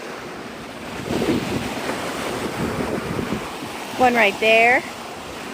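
Ocean surf washes steadily onto Navarre Beach, Florida, a continuous breezy roar of breaking water with wind across the microphone, while a person talks over it and a brief tonal call rises near the end.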